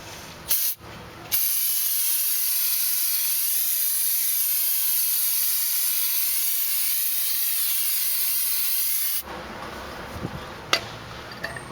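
Blue spray paint hissing from an aerosol can onto a vehicle brake caliper and bracket, one long steady spray of about eight seconds after a couple of short bursts, close and alone.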